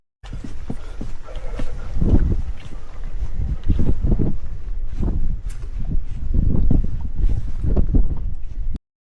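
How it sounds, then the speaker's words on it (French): Strong wind buffets the microphone on the summit of the Grand Ballon during a mountain hike, a loud, continuous roar with heavier gusts surging throughout. "Il y a un vent de malade."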